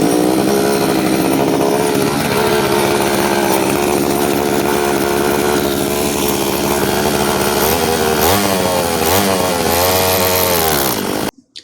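A small motor being tuned runs rich with too much fuel, a loud continuous buzzing drone with wavering pitch that rises and falls near the end before cutting off abruptly.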